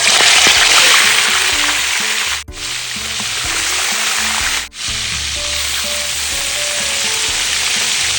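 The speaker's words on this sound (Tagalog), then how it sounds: "magpapainit na ako ng mantika dahil start na tayo magprito" Marinated chicken frying in hot oil in a home kitchen in Candaba, Pampanga, giving a loud, steady broadband sizzle that runs throughout, with two brief dips where the food is moved.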